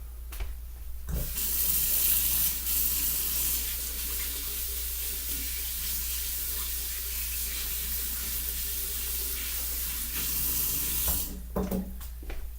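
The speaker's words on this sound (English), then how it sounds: "I'm gonna wash my hands and then we're gonna do the next step." Kitchen tap water runs steadily and close while hands are washed between burger-cooking steps, a continuous hiss that starts abruptly around the first second and cuts off near the end, with no talking.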